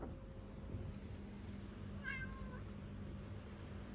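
A cat gives one short, faint meow in Thailand, partly masked by steady rhythmic insect chirping and a soft outdoor background hiss.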